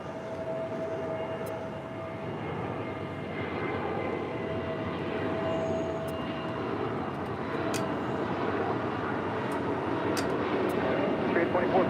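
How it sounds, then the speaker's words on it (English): A Spirit Airlines Airbus A320neo takes off at LAX, a broad steady engine roar that builds gradually over about twelve seconds, heard at a distance with faint occasional clicks. "Next departure, Spirit Airlines, flight 2445, heading to Cabo. It's an A320 neo."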